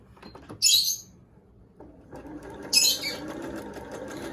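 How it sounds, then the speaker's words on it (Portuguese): A sewing machine runs a steady straight seam along the sides of a therapeutic eye mask, a close, continuous mechanical whir that starts partway through, with small birds chirping briefly in the background. "Eu vou levar a máquina e vou passar uma costura reta nas laterais."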